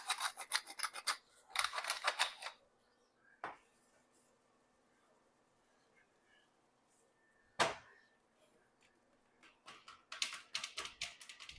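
Hands rub seasoning into both sides of a tri tip on a work surface, making quiet, close bursts of rapid scratchy rubbing with a few isolated taps and quiet pauses between.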